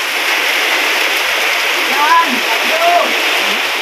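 Steady rain hisses loudly and continuously, with a few faint chirps poking through the wash of noise.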